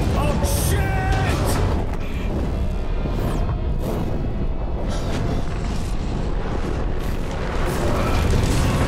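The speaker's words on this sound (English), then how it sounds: "Isaac is flung out of the exploding Eudora spaceship" The Eudora spaceship blows apart in Dead Space 3: a dense, continuous roar of booms and rumbling blasts, loud and close, with sharp bursts layered throughout.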